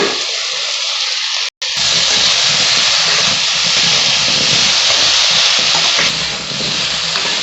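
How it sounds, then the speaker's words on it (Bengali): Young jackfruit fries in oil with salt in a covered pan, giving a loud, continuous sizzle and hiss with a brief dropout near the start. "আমি একটু ঢাকা দিয়ে এঁচোড়টা ভেজে নিচ্ছি।"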